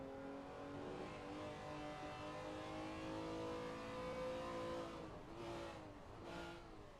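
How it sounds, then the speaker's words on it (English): Simulated BMW race car from an ATCC touring car sim race at Townsville, engine held near the rev limiter in a steady high whine with stacked harmonics, briefly dipping twice near the end as it lifts for a hairpin. "Almost hard on the rev limiter on the run into the hairpin."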